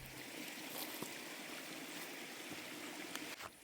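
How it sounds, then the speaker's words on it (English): Steady broadband rush of water spilling over a dam at a carp fishing lake in France, continuous and even throughout with no voices, a faint tick or two riding on top of the roar. "enjoy the beautiful sound of the water falling over the dam"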